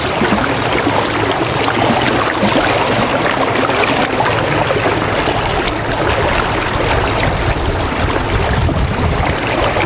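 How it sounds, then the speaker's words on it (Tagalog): A strong current rushes along a wide, swollen river, a loud and unbroken roar of churning water close by, with a low steady rumble running underneath. "Lakas pa rin ng agos, oh."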